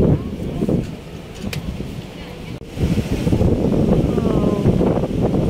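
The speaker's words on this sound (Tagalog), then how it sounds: "Lakas ng hangin." Strong wind buffets the microphone outdoors in a continuous heavy roar with gusty surges, and faint voices are partly masked beneath it.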